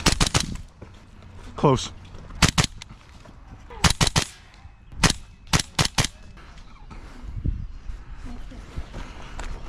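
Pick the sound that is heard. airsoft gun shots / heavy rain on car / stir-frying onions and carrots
airsoft gun shots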